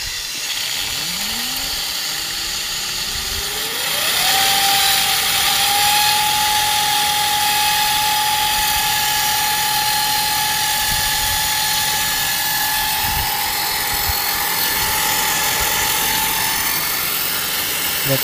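A cheaply built micro hydro generator driven by water at over 100 psi spins up, its whine rising steeply in pitch over a few seconds and then holding a steady high tone, loud and close over constant rushing water.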